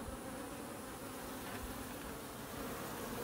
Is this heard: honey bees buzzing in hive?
yes